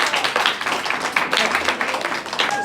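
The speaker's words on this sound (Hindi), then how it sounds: "ऐसा जोरदार ताली एक बार फिर से होनी चाहिए।" An audience at a community program claps loudly and continuously, a dense wash of many hands with a few voices mixed in.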